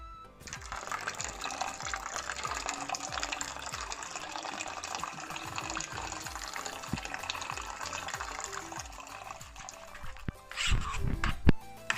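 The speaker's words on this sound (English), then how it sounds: "It's time for me to add water little by little." Water pours in a steady stream into a bowl of akamu batter for akara, a close gushing trickle, with faint stirring knocks and a brief louder clatter near the end.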